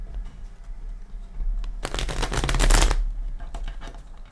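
A Light Seers tarot deck gets shuffled by hand, a dense burst of riffling card flutter lasting about a second, close and crisp, followed by a few lighter taps and shuffles with no talking.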